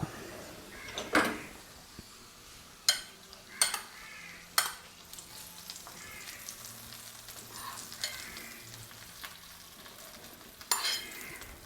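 A fried mixture of raisins and other ingredients poured into a mutton stew, low sizzling and stirring punctuated by several sharp clinks of a pan and utensils, close.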